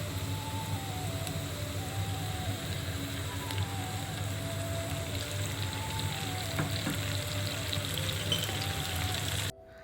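Fried onion with dried chili paste and ginger-garlic-cumin paste sizzles steadily in a pan for a Bangladeshi loitta shutki bhuna, a continuous close hiss with faint tonal whistling, ending abruptly.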